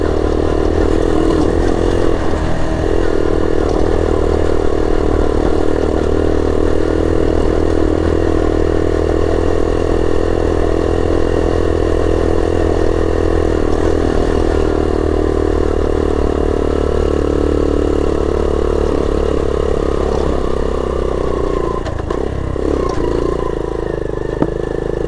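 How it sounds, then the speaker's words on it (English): A 1970 Honda Trail 70 small trail bike rides a rough dirt trail. Its engine drones steadily and close throughout at mid revs, with small rises in pitch and a faint clatter from the bike. "The little 70 doesn't do too bad. It gets up and moves when you ask it to."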